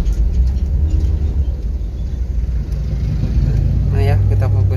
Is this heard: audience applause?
no